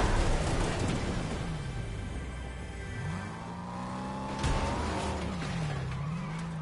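Vehicle skidding in Fortnite, with engine drone and a sliding tire screech that swoops in pitch, plus a sharp burst near the middle, in continuous gameplay sound with no talk.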